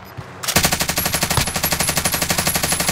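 An MP5 submachine gun fires in the video game Warzone, a loud, close, rapid automatic burst of evenly spaced shots that starts suddenly and runs continuously to the end.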